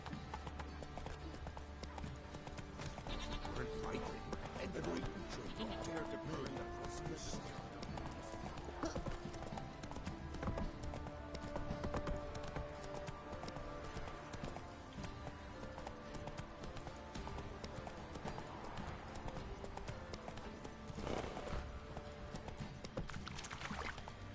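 A horse trotting in The Witcher 3 video game, steady clip-clop hoofbeats running throughout at moderate volume, mixed with ambient game sound and occasional faint voice-like noises.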